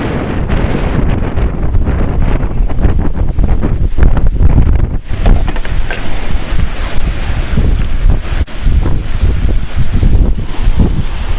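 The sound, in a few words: wind blowing on the prairie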